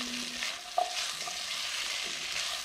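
Eggs fry in a pan for fried rice, a low steady sizzle with soft stirring scrapes and one brief clink of the utensil, close and fairly quiet.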